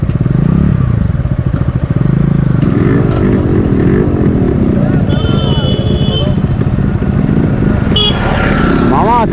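A group of five motorcycles carrying two riders each rides along together, engines droning loud and close throughout with rattling and wind buffeting, while people talk over the engine noise.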